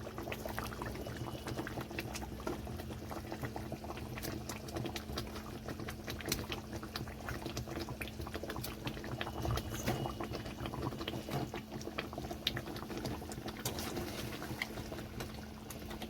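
Rupchanda fish curry with pre-fried fish boils in a pan, a steady bubbling simmer with scattered pops and light crackles, continuous and fairly close, with no talking.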